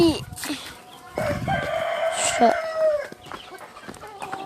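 Chickens cluck and a rooster crows loudly nearby at a Turkish chicken farm, with overlapping calls and squawks in quick succession.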